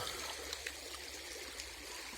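River water pours over a small man-made dam on the Nysa Szalona near Jawor, Poland, making a steady broadband rush of flowing water that holds constant throughout, with no voices.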